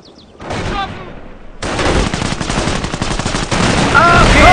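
Continuous machine gun fire and battle noise from the World War II strategy game Company of Heroes, loud and dense, with German voice lines and a brief whistling sound over the shooting.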